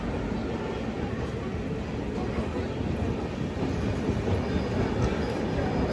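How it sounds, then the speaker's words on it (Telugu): A train pulling into platform 3 at a busy railway station, a steady loud rumble of wagons rolling past up close, continuous and dense with no pauses. "అటు సైడ్ ఒక ట్రైన్ వస్తుంది చూడండి"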